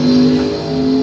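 A Vega and a Mustang drag racing at a bracket nationals event produce a brief, loud, steady engine drone with a strong tonal hum.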